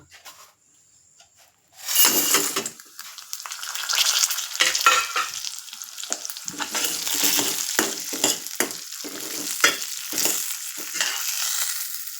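Toor dal roasting in a pan, dry grains rustling and scraping loudly under a stirring utensil after a near-silent start. Repeated scrapes and gritty shuffles continue steadily to the end, close up, with no voices.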